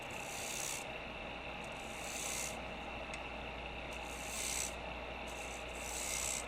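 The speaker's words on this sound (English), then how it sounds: "So now I'll continue scoring from that last reference line I had." A woodturning tool scores a spinning wood piece on a lathe in a turning demonstration, giving a soft rasping scrape in repeated strokes with short pauses between them, fairly quiet and with no talking.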